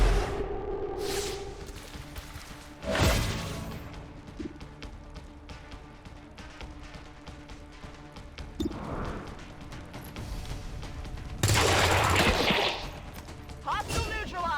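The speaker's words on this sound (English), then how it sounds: "Heavy fire in this zone." XCOM 2 combat with heavy gunfire: scattered sharp shots and a few long, loud bursts of sustained fire, mixed with impacts and mechanical clatter, voices heard briefly in between.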